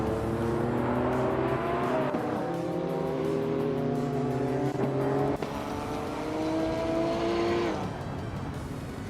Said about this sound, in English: Sikapol is driving a 1983 Porsche 911 930 Turbo Doha